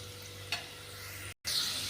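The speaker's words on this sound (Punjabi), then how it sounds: "ਉਸੇ ਤੇਲ ਦੇ ਵਿੱਚ ਆਪਾਂ ਪਾ ਲਏ ਪਿਆਜ਼" Onions sizzle in hot oil left over from frying bitter gourd for a curry. The frying hiss stays soft and steady, with a brief stirring clink and a short cut in the middle.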